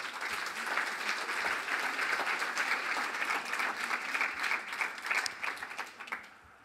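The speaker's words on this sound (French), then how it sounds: "C'est bien si vous applaudissez avant" Audience applause greeting a pastry chef at a cooking demonstration event, a steady wash of many hands clapping heard from some distance, sustained and then thinning out at the end.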